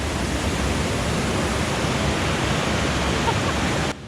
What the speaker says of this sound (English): The deep roar of tumbling water shook me to my core